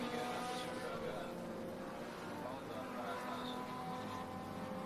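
Race cars in the BaTCC Parnu Summer Race BTC / V1600 class on their final lap, a faint steady engine drone with passing swells, blended with background broadcast noise.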